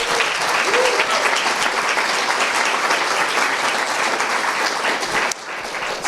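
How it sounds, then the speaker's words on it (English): An audience at a Bronx community presentation on littering and illegal dumping claps in sustained, dense applause that holds steady, then thins slightly near the end. "Please give them a round of applause."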